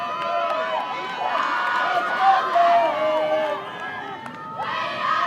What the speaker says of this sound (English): the crowd are really getting in behind these two teams here now, and it's great to see and hear the chanting that's starting